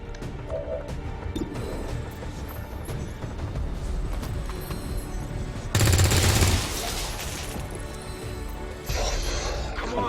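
Bursts of gunfire in XCOM 2, with sharp shots and rattling volleys over background game music, including a louder burst of firing midway through.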